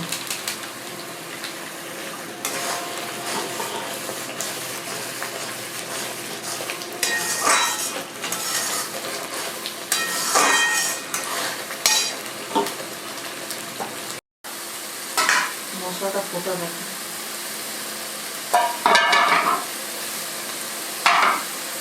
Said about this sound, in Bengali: মশলা খুব ভালোভাবে কষানো হয়ে গেছে তেল ছেড়ে দিয়েছে মশলা থেকে